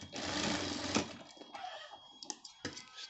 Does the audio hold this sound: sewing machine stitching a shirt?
yes